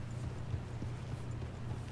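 A horse in Red Dead Redemption 2 walks with a soft, steady clopping of hooves, fairly quiet and even, without a clear whinny.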